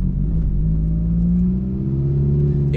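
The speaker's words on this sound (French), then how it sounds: "Écoutez vraiment la mélodie du V8 là" A Ferrari 458 Italia V8 engine hums at a low, steady pitch with a rising, throaty drone that slowly builds, heard close from inside the car.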